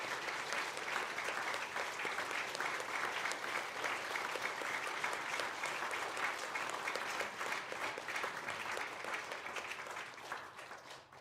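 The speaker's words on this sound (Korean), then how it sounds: "우리 두 분께 다시 한번 뜨거운 박수 함께 하도록 하겠습니다" A church congregation gives sustained, even applause for their pastor and his wife at a New Year worship service, the dense clapping holding steady for about ten seconds before tapering off.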